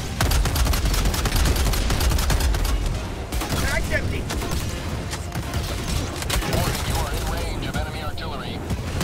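Heavy artillery and gunfire in the video game Helldivers: dense, loud volleys of shots and booming blasts rolling on continuously, with voices talking over the barrage.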